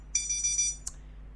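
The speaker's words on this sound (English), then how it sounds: "that is my what's it called? That's my Pomodoro timer." A Pomodoro timer alarm sounds a quick rapid series of bright electronic beeps, followed by one short separate chirp, close and clear over a quiet room hum.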